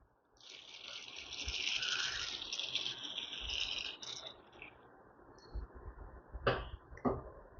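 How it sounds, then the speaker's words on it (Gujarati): Water runs and splashes steadily for several seconds as puffed rice is rinsed, then fades, followed by a few close clinks and knocks. "બે કપ મમરાને આપણે પહેલાં તો પાણીથી સારી રીતે ધોઈ લેશું"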